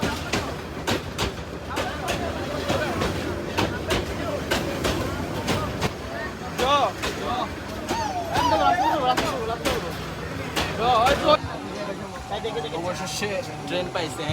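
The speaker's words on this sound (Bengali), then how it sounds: "আরে ট্রেন আইছে, অবশেষে আমরা ট্রেন পেয়ে গেছি" Train pulling into a station on a Sylhet to Cox's Bazar journey, a steady rumble with clanking and squealing wheel sounds building over the clip, heard under excited talk from nearby people.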